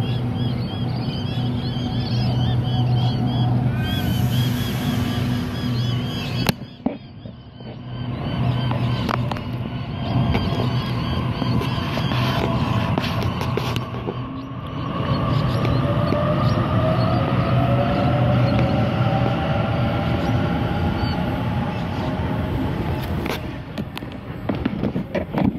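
A Sydney suburban train pulls out of Denistone station, a loud sustained rumble of motors and wheels with rising whine tones and occasional clanks, close by and steady throughout, with no talk.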